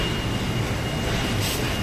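An aircraft turbine engine running at an airport gate at Guarulhos during jet bridge docking, a steady, loud broadband roar and whine that holds level throughout without speech.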